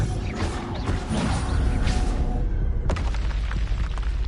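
Spell explosions in the Hogwarts Legacy video game boom and crash in heavy, close bursts, with a rumbling low blast and a sharp new impact partway through, no voices.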